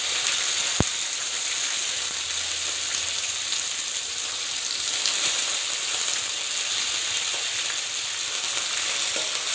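Long-sliced onions fry in oil with fennel and ginger-garlic paste, giving a dense, constant sizzle close by, broken once early by a sharp click from a utensil.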